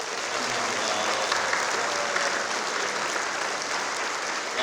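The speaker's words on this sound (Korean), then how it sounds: "진심으로 수고하신 모든 우리 준비위원들 또 위에서 박수 한번 하겠습니다" A congregation at an outdoor church service claps together in a steady, full wash of applause that holds evenly throughout, with faint voices mixed into the crowd.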